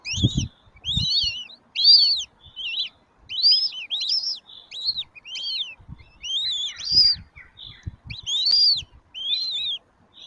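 Five goshawk chicks in a nest give repeated high, thin chirps and squeaky calls in quick bursts, fairly close and clear over a quiet background with a few low thumps.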